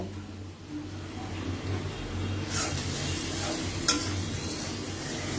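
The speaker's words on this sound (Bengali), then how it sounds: "পেঁয়াজটা আমরা একটু গোল্ডেন কালারের মতো ভেজে নিব" Onions frying in a pan for beef biryani give a low, steady sizzle throughout, with a couple of faint stirring scrapes and no talk.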